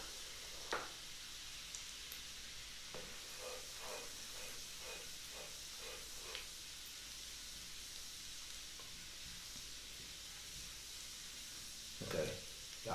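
Shallot and minced ginger brown in a hot pan with a soft, steady sizzle and hiss, punctuated by a few light stirring clicks and a brief louder scrape near the end.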